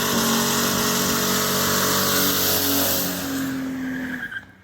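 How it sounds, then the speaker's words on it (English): Six-cylinder Ford Mustang engine, recently fitted with a new coil, idling steadily and fairly loud at close range for several seconds before the sound fades out at the end, with no talking. "Gonna jump inside and start it up and see if she hits on all 6 cylinders."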